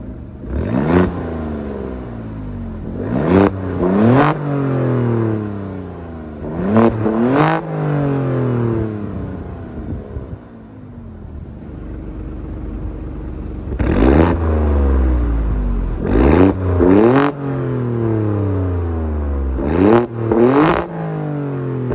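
Engine of a 2022 Alfa Romeo Stelvio Quadrifoglio revving repeatedly, loud close blips that rise sharply and fall back to idle in two clusters with a brief quieter lull between.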